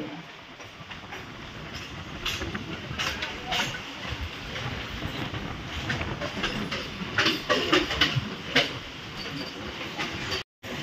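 Trains roll through Howrah station as a Jabalpur–Howrah train pulls in, a local arrives and an express departs; rumbling wheels and rhythmic clatter build and fade, with sharp clanks and bursts near the end.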